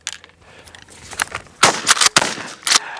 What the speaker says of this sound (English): I'm gonna try shoot it in the air